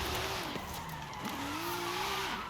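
A Toyota Supra drifts in Forza Horizon 5, its tires squealing in long, wavering, steady tones over a constant roaring engine, loud and close throughout with no talk.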